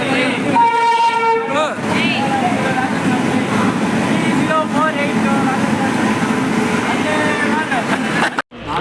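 A passenger train rumbles steadily at a railway station near Chennai's beach after leaving Egmore, with a horn-like tonal burst early on, metallic squeals and continuous loud rolling noise, while a person talks over it.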